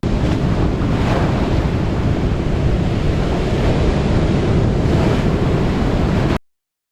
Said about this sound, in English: The wind speed has increased. There's a rising tide.